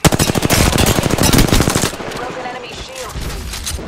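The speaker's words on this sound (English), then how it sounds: "This kid has a Sheila turret right under your flag." A Sheila minigun turret firing in a video game, a loud close stream of rapid shots that holds for nearly two seconds and then stops, leaving quieter game sounds and some speech.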